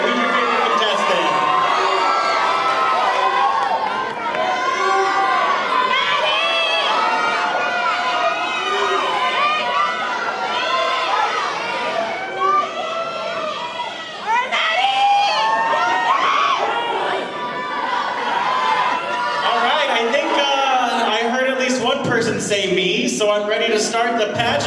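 Crowd at a 2018 Miss South Gate beauty pageant cheering and whooping for contestants, loud and continuous with shouts and excited voices layered over the din throughout.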